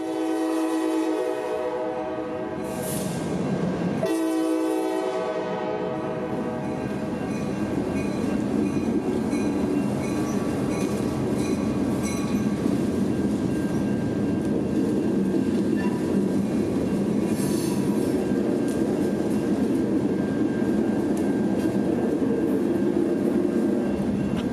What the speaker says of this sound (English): see Y295 with a very long train for his standards, street running through downtown just before 8 p.m.